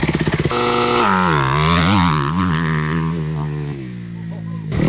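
A motocross bike ploughs through deep sand ruts on a Florida training track, its engine opening from a sputtering idle into a loud, sustained, wavering roar close by, then suddenly cutting off.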